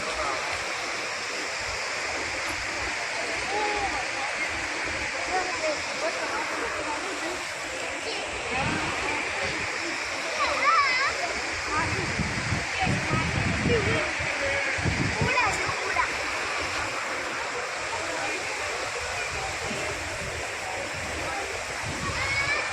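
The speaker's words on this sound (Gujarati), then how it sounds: "તો ઝરણા પણ ચાલુ છે." Stream water flows steadily at Damodar Kund in Junagadh, a continuous rushing and splashing that fills the whole span, with a few louder surges midway and faint voices in the background.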